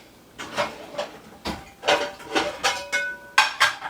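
A frying pan is pulled out in a kitchen: a series of short metallic clanks and knocks of cookware, close and moderately loud, with no talk.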